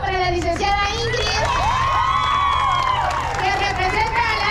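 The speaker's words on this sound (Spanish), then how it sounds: "Así que otro aplauso para la licenciada Ingrid" Crowd applause and cheering at an awards ceremony for the 4th UNAB marathon in Chalatenango, 2022, steady and fairly loud throughout, mixed with shouting voices and a prominent speaking voice over the clapping.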